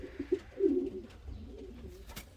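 Pigeons cooing in a breeding loft, several soft low coos in a short run, close by and moderately loud with no talk.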